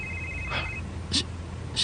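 A phone rings with an incoming call in a home setting, giving short bright repeated chirps over a low steady background hum, with no talking.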